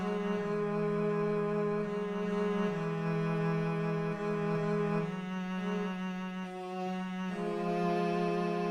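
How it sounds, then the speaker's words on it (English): Solo cello and V cello presets from the SRX Orchestra synth layered together, playing sustained bowed notes that change pitch every few seconds, rich and harmonically full, alone without voices. "I also added the V cello from SRX Orchestra, and both of them combined sound like this."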